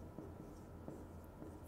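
A pen scratches out steady, continuous writing strokes while working a calculus problem during a math lesson, close and fairly even, with brief pauses between strokes.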